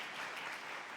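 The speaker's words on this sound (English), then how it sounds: "Big round of applause." Audience at an advocacy event clapping for introduced staff, a short, faint, steady burst of applause.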